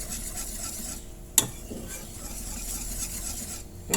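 A spoon or whisk stirs butter into puto batter in a bowl, giving a soft continuous scraping and swishing close by, broken by one sharp clink against the bowl's side.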